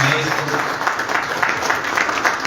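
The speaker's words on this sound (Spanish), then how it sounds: "Un fuerte aplauso para ellos." Applause breaks out for a university tuna group in Arequipa at a round-table gathering, a brief burst of crowd clapping with talk mixed in.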